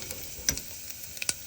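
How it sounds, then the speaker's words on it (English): Ginger browns gently in a pan for khichadi, heard as a faint, quiet sizzle broken by a few light ticks and taps of a utensil. "let it cook a little bit because there is a ginger inside. Let the ginger get a little brownish, caramelized"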